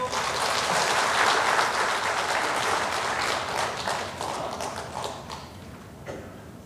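A church congregation at a Sunday worship service gives dense, sustained clapping that gradually thins and fades, leaving scattered claps at the end.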